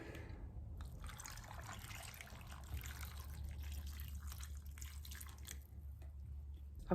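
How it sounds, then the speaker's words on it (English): Water poured from a tap into a pan of cut celeriac gives a faint, steady trickle and splash that runs unbroken for several seconds, close by and quiet, with no talking. "Top with water."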